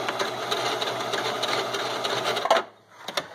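A sewing machine runs a zigzag stitch through fabric for a harp bag, a loud, fast rattling whir that stops abruptly near the end, followed by a few quieter clicks.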